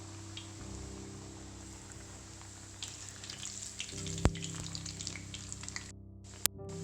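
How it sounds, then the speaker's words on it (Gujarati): Pieces of churma dough deep-fry in hot oil over a medium gas flame, giving a quiet, steady sizzle with scattered small pops and crackles close by. "તેલ સારી રીતે ગરમ થઈ ગયું છે। હવે આપણે તળી લઈશું। મીડિયમ ગેસે તળવાના"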